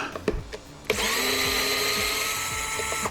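A power tool whirs up and runs steadily at close range while removing top bolts from an RC car's motor mounts, after a few faint clicks and taps.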